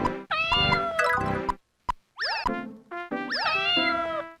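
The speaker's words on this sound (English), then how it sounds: "they also meow and hiss at you a bunch while this incredibly pleasant music plays in the background." Cats in the Japanese PS1 game Benichi Nekoyobi meow repeatedly in clear, close, bending cries, several calls in quick succession with brief gaps between them.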